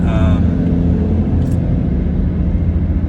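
A big truck rumbles past on a road, a loud low roar that holds steady and fills the whole moment, drowning out everything else.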